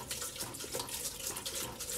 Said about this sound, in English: Pour another whole gallon in.